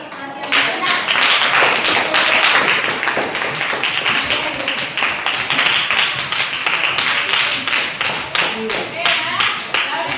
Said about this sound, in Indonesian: Tepuk tangan atas perhatian Anda.